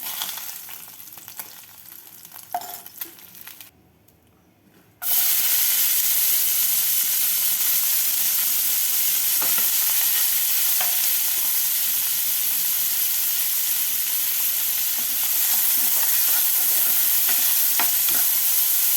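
Dried fish frying in hot oil for a dried fish and cucumber curry, a loud continuous sizzle that bursts in after a brief quieter stretch with light stirring, then holds steady and close.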